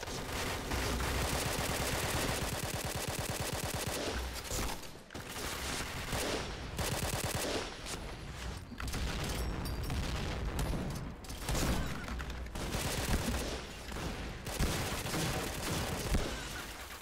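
Gunfire from the shooter game Point Blank, including a K2C rifle: dense, continuous bursts of automatic fire and overlapping shots, loud and close throughout, with only brief gaps.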